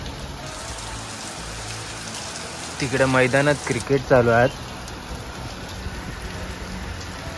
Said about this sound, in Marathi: तरी आमच्या गावात पडणारो पाऊस.